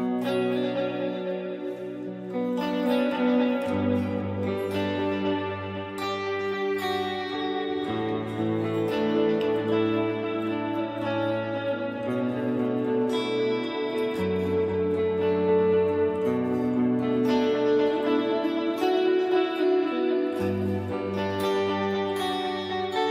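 An electric guitar played through a Line 6 Helix with delay effects rings out in sustained chords and notes, with repeats trailing and layering into a full, spacious wash, loud and continuous with no talking.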